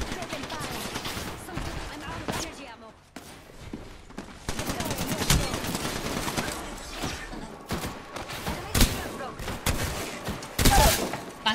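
Light machine gun firing in Apex Legends, with sustained rapid bursts of close, sharp shots broken by short pauses, alongside other distant gunfire and occasional voices.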